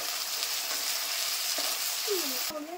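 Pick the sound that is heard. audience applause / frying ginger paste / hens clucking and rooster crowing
frying ginger paste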